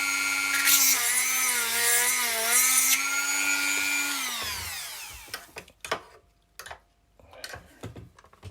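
A power drill runs steadily for about four seconds enlarging a rivet hole, whining with a shifting pitch before spinning down, followed by scattered clicks and handling knocks.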